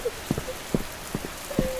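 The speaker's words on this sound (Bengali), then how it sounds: "মুষলধারে বৃষ্টি হচ্ছে।" A heavy downpour of rain, with a steady wash of rainfall and a few soft, regularly spaced thuds of drops striking a surface, heard alone with no voices.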